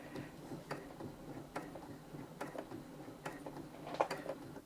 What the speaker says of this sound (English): if I start sewing, even if I apply maximum pressure to the foot control, it will only sew at the slowest speed